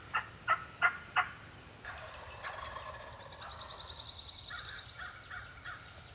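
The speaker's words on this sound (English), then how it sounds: "there were turkeys gobbling everywhere" Several distant wild turkeys gobble at daybreak in Mississippi, rippling bursts of a quick series of four loud calls followed by more overlapping gobbles in open outdoor air.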